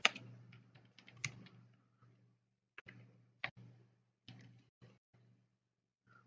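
Short bursts of keystrokes as the ls command is entered on a computer keyboard, quiet close clicks with pauses between them in an otherwise silent room.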